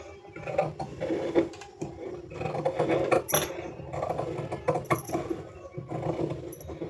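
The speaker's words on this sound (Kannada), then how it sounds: "ಈಗ ಇವು ಏನಿದಾವೆ ಅಷ್ಟು ಇವು ಎಡ್ಜಲ್ಲಿ ಏನು ಬಟ್ಟೆ ಇರುತ್ತೆ ಮಿಕ್ಕಿರುತ್ತೆ ಇವಾಗ ಕಟ್ ಮಾಡ್ಕೋಬೇಕು." Scissors snip away excess fabric from the edges of a stitched blouse at a sewing machine, a close series of irregular cutting clicks and rustles with no talking.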